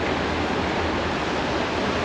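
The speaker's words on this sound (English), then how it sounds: "Hopefully the noise from the river is not affecting the audio" River in Sarajevo rushing steadily beneath its bridges, a dense, even broadband wash of flowing water, loud and close with no pauses, no voices.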